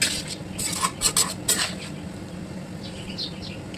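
Vegetables and mustard paste stirred in a cooking pot for a Bengali milk shukto, a few quick metal scrapes and clinks near the start, then a soft steady background hiss, with no talking.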